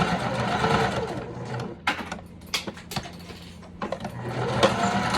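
A sewing machine stitches over a zipper tab in short, rapid bursts with brief pauses between runs, close by and clear.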